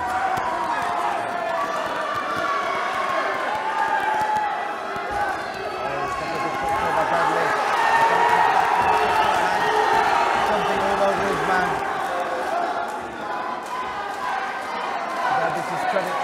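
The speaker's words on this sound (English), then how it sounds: "The crowd going wild, urging their men to come forward and throw their big punches." Boxing crowd at a fight night roaring and cheering continuously, swelling louder midway, with a commentator talking over the noise throughout.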